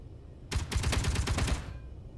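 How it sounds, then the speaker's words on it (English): A short burst of rapid Gatling gun fire from the space combat game Modular Ships, a dense rattle of evenly spaced shots lasting about a second before cutting off. "let's start with the Gatling guns first"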